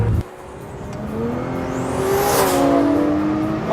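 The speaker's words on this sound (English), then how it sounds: "wastegate flutter and turbocharger whine" A 1400-horsepower AMS Performance Alpha 12 Nissan GT-R accelerates hard with a loud rising engine roar, climbing turbocharger whine and wastegate flutter, heard close and sustained.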